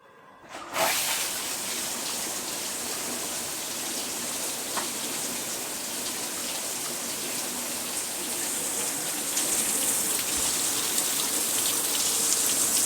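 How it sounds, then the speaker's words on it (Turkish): A dishwasher fills its tub with softened water, giving a steady rushing, hissing flow that starts abruptly and continues evenly, growing slightly louder near the end, with no talk. "Bekliyoruz hala yumuşattığı suyu makinenin kazanına almaya devam ediyor."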